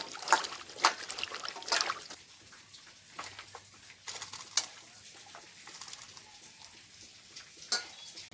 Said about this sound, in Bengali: মোচাটা আমি সিদ্ধ করবো জলটা দিয়ে দিচ্ছি